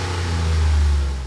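A truck engine fitted with a Gen 6 Bold Performance exhaust revs loud and close, a deep rumbling swell that builds and then eases off, with no talk over it.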